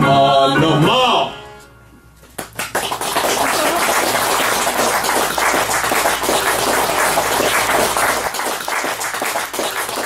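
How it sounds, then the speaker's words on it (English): A massive stadium crowd of tens of thousands roars continuously and loud after a brief hush, a dense wash of cheering that fills the whole stretch. "There you can hear the crowd of tens of thousands in the stadium."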